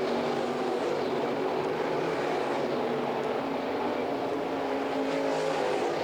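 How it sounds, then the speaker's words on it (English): Continuous roar of race car engines at night on Volusia Speedway Park's dirt track, a steady loud drone with engines rising and falling as cars pass. "Dylan Brown pulls to the infield in car number 6."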